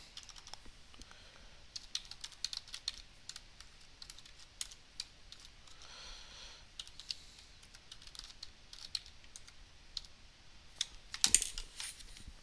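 Quiet, irregular keystrokes as someone types code on a computer keyboard while writing a first program, with soft scattered clicks through the whole stretch and a brief louder clatter near the end.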